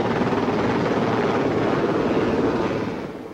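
A helicopter flies close overhead while lifting a heavy bridge sculpture at a sports field, a loud steady rotor and engine roar that fades slightly at the end.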